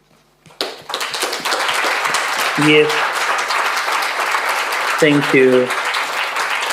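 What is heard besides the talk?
audience applause at a congress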